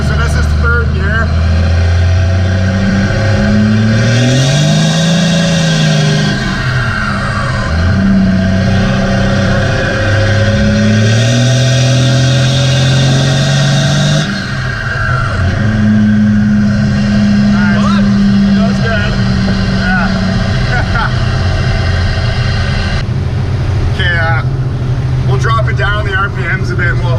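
A 1st gen Cummins diesel tow truck with big injectors accelerates hard in third gear. The loud engine roar climbs and falls in pitch several times as it pulls, with someone talking over it.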